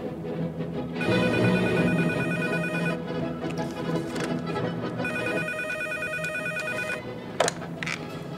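A telephone rings indoors in two long bursts with a pause between, a bright trilling bell that is fairly loud and clear, followed by a brief sharp clatter near the end.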